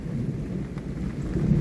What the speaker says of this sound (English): Hear the thunder rolling.